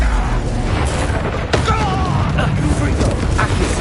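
Bombarda spell explosions in Hogwarts Legacy during combat, loud booms and bursts layered with other spell effects, talk over the action.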